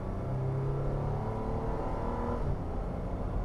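A 2018 Toyota Land Cruiser Prado's 4-litre V6 with 6-speed automatic drones and strains under full kickdown acceleration, a steady loud roar with rising tones and road noise throughout.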